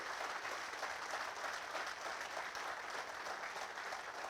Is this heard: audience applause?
yes